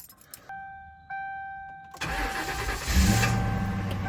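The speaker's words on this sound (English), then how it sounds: "Let's turn the car on and see what happens." A car sounds a few chime tones, then the starter cranks and the engine catches with a loud surge, settling into a rough, revving run.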